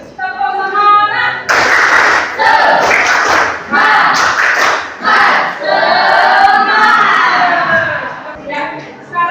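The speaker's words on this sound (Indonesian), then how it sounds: "Tepuk semangat!" Classroom of schoolchildren doing a spirit clap chant, rhythmic bursts of clapping and shouted voices in unison, loud and close, with a teacher's voice leading between bursts.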